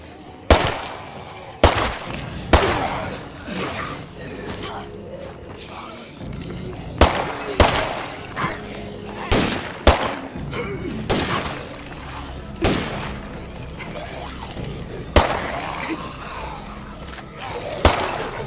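Gunfire in a video game street fight, sharp loud shots repeating at irregular intervals amid rattling, clattering game noise.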